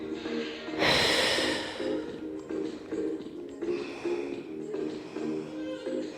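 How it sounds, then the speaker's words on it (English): Deep inhalation through the nose during a Pilates stretch, a loud snort-like breath in near the start followed by several softer, rhythmic breaths close to the mic over a low hum. "Deep breath in."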